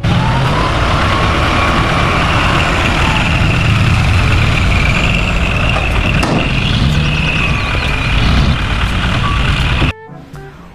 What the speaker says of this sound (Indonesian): Di sini ada mobil dump truck.